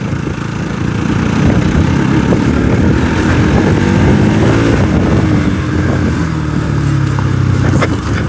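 A Bajaj Pulsar NS200 motorcycle rides along a road, its engine droning loudly and close with shifting pitch and steady rumble, accompanied by wind rush throughout.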